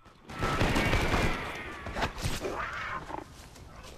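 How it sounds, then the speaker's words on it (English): A burst of warning gunshots rings out in a Red Dead game, several sharp shots crowded into the first second, then scattered reports and rumbling noise with voices mixed in. "That is 7 warning shots to hold them off."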